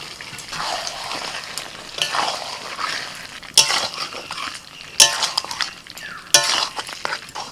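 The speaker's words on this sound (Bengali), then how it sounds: "আলু দিয়ে আরও মিনিট দিয়ে কষিয়ে নিচ্ছি" Chicken and potato pieces are stirred and sautéed in a pan, a continuous loud sizzle broken by scraping stirs and several bright metal clinks of the spoon against the pan.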